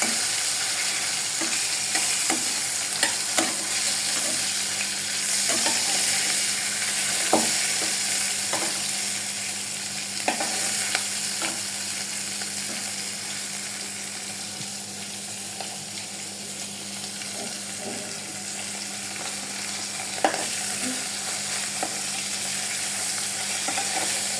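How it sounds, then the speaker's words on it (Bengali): Hilsa fish frying in hot oil, a steady soft sizzle throughout with occasional clicks and stirring taps, close by, no talking. "আর এদিকে দেখো মাছটা ভাজা হতে থাকুক।"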